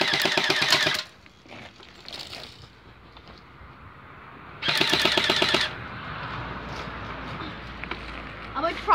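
A two-tone budget P90 airsoft electric gun fires two rapid bursts, each a sharp mechanical buzz of about a second, separated by quieter room noise and light handling sounds.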